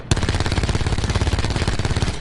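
Spitfire firing in Black Ops 4, a loud rapid burst of automatic gunfire with evenly spaced shots held for about two seconds, close and alone.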